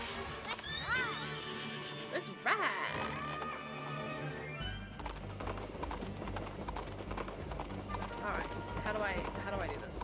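Hooves clop in a quick, steady gallop in the video game Princess Peach Showtime!, with thuds and music-like tones layered over it, close and continuous for the whole stretch.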